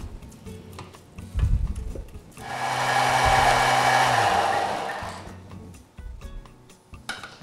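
Blender pureeing cooked onion cream in a kitchen, a steady whirring roar lasting a few seconds, bracketed by clinks and handling noises before and after.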